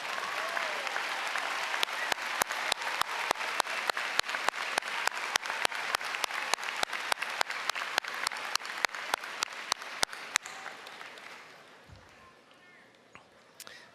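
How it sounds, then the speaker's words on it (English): Crowd applause at a high school graduation ceremony for teachers and staff, with one close clapper's sharp, evenly spaced claps cutting through the broad clapping before it fades out, leaving murmur. "give them a round of applause,"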